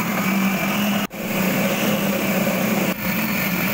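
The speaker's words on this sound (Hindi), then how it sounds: "और ग्राइंड कर लेंगे।" An electric grinder blends a beef shami kabab mixture with ginger and garam masala, a loud, continuous high-pitched motor whir. It cuts out briefly twice in pulses, close up, with no talking.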